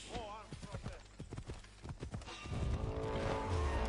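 A horse in the video game Assassin's Creed Odyssey clip-clops along, quick hoofbeats thudding in a rapid gallop rhythm, then giving way to a louder rush of combined game sound.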